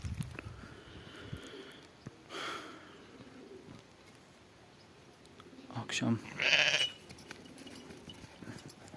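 Sheep on a farm bleat in short calls, one louder and closer near the end, over a quiet outdoor background with someone speaking at the start and birds faintly around.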